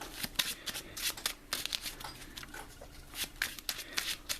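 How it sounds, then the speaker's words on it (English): Quick shuffling of a Marvel Champions card deck, a series of close, crisp riffling bursts in an uneven rhythm with no talking over them. "we will give this a quick shuffle"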